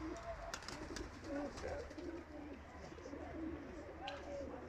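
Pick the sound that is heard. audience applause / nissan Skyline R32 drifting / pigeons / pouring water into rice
pigeons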